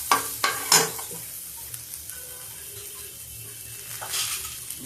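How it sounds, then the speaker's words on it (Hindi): Onion heating and softening in a pan, a soft low sizzle under a few sharp clinks and stirring knocks at the start, then quieter steady frying. "ये देखिए मेरा प्याज गरम हो रहा है।"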